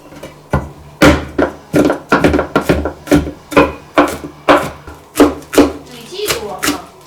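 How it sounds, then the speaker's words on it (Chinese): A knife chops garlic cloves on a cutting board in a home kitchen, about a dozen sharp, close thuds in an uneven rhythm, each with a brief woody knock, with no talk. "你爱吃的蒜，我给你切一点蒜子啊。"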